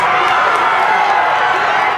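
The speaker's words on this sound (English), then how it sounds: "jubilation in the courtyard outside the Hennepin County Government Center as a crowd of hundreds heard the three words they've been waiting for" Crowd of hundreds cheering in the courtyard outside the Hennepin County Government Center at a verdict, a loud, dense, continuous roar of shouts and voices with no gaps.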